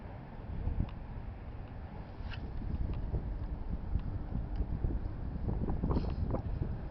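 Wind blowing across a boat while fishing, a steady, loud rushing roar buffeting the microphone throughout, with faint knocks underneath.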